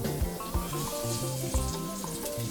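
Onions fry in a pot for Nigerian plantain porridge, giving a steady sizzle throughout with faint background tones and low thumps.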